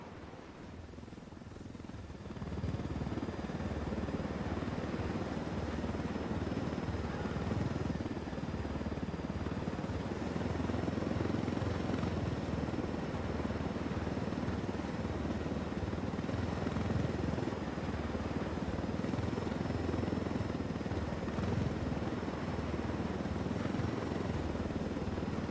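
Helicopter rotors thump and whine in a video game, a loud, continuous drone that swells after a short quieter start and holds steady with no voices.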